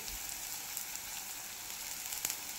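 Bombil dry fish fries in a pan, a faint, continuous hiss of sizzling oil with a couple of small crackles.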